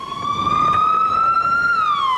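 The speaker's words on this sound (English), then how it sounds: "another ambulance has arrived." A loud, close ambulance siren holds a steady high wail, its pitch rising slightly and then dropping near the end, over faint traffic rumble, after the 2000 Tuscaloosa tornado.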